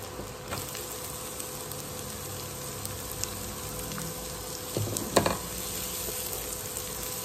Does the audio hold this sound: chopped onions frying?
yes